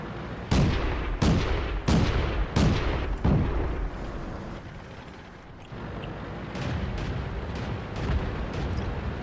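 Tank cannons fire in a World of Tanks battle, five heavy booming shots in quick succession followed by rumbling engine and distant blasts, loud and close.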